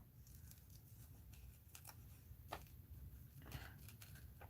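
Scissors snip around a paper cutout of a woman, soft quiet cuts and paper rustles in an irregular rhythm, close and faint against a low background hum.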